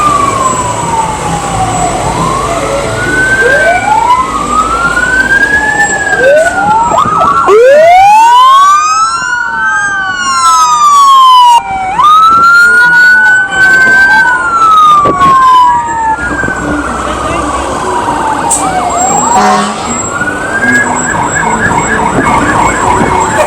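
A French Fire Department fire engine in a festival parade sounds its wailing siren up close and loud, rising and falling sweeps overlapping with other emergency sirens and a horn blast, crowd noise underneath.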